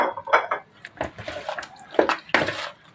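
About a kilo of raw chicken wings and drumsticks is tossed by hand in a bowl, giving wet, squelching sloshes and soft clinks in short, close bursts.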